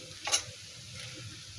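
Cauliflower pakoras made with lentil batter fry in oil with a soft, continuous sizzle, broken early by one brief scraping clink of a utensil; close and fairly quiet, with no talking.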